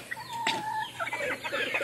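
Backyard chickens clucking close by in a short burst of several rapid, overlapping calls.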